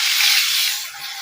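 Hot tempering of fried onions poured into a Kerala village-style koozhuva fish curry, giving a sharp burst of sizzling hiss that fades quickly after a moment.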